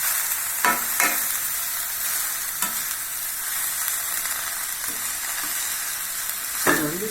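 Finely chopped momo filling with coriander sizzles steadily in a hot pan, a close, continuous frying hiss broken by a few sharp clicks of a spoon stirring.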